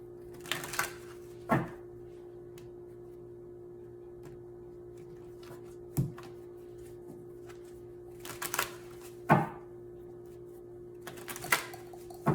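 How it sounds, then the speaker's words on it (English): Tarot cards shuffled by hand in short bursts of riffling and flicking, spaced apart by quiet pauses over a steady low hum, close and fairly soft. "And we'll go ahead and shuffle for our Divine Masculine."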